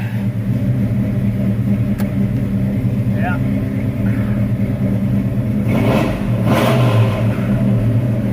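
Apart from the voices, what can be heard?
1986 Chevy engine revving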